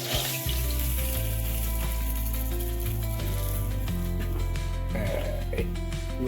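Poppy seed fritters crackling in hot oil as they are lifted out, a dense continuous sizzle with scattered sharp pops, close and loud, with some clattering and a hum underneath.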